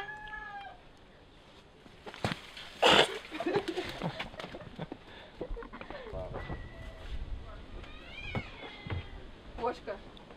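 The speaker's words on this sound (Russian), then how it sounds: "Кошка. Кошка," A cat meows several times, with drawn-out rising and falling calls near the start and again toward the end, over a noisy background with voices and other sounds.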